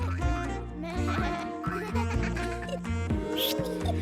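A cartoon sheep bleats in a wavering, nasal voice, with several quavering calls in a row over a background of other sounds.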